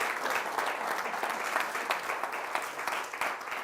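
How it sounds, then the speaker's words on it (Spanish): A church congregation breaks into steady, dense applause during a Spanish-language service, a sustained crowd of clapping heard at moderate level with scattered sharper claps standing out throughout. "Denle un aplauso grande al Señor."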